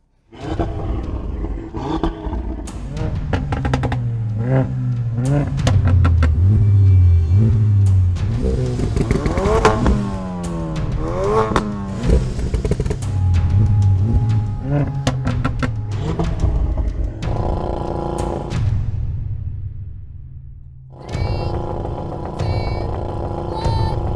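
An Audi RS3, Mercedes A45 AMG, Honda Civic Type R, VW Golf R and Ford Focus RS launch off the start line, engines roaring and revving hard together, pitches climbing through gear changes, briefly dropping off and surging again.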